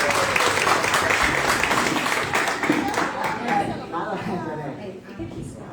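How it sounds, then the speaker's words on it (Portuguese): Audience at a live evening event applauding Tia Lete, steady clapping mixed with chatter and light laughter that thins out and fades toward the end. "Vamos, aplausos para a Tia Lete!"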